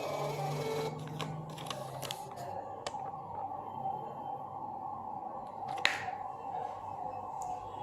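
A Balaji BBP billing machine prints its saved header and footer receipt, a buzzing printer whir with short mechanical ticks and clicks, followed by quieter intermittent taps against a steady background hum.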